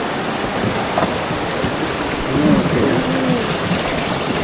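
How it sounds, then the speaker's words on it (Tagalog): Rain falls steadily during a boat ride toward waterfalls in a mountain setting, with water noise throughout and a faint rumble partway through. "Umuulan."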